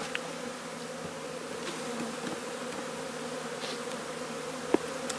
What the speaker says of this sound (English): a small number of bees